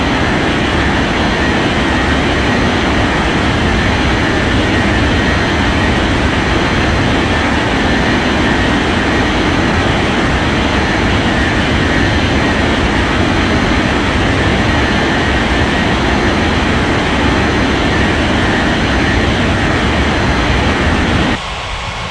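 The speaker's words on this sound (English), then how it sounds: "Azerbaijan 8654 taxi to gate Bravo 5." Jet airliner engines taxiing in an air traffic control video game produce a loud, steady, roaring whine that fills the whole stretch without letup, with no talking over it.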